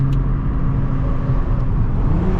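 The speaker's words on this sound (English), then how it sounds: "Let you guys hear some pops and burbles on this little bridge." Loud, steady engine and exhaust drone from a 2021 Toyota GR Supra during a night drive on a small bridge, with a brief crackle near the start that may be an exhaust pop; no talk.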